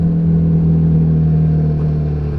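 A Royal Enfield Himalayan 450 motorcycle, a 450cc single, riding at a steady engine note with a strong low hum and steady rumble, close and loud, no talking.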